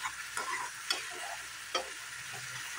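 Fish in a frying pan is stirred with spices and chili powder, with soft sizzling under several distinct scraping strokes of a utensil against the pan, spaced irregularly.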